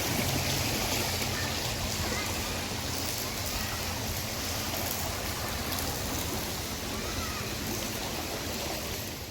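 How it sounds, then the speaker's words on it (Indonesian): Strong flowing water rushing through a stream channel at a park retention pond after heavy rain, making a continuous loud, dense roar and splash that stays steady throughout and has no talk over it. "aliran airnya masih kencang sekali"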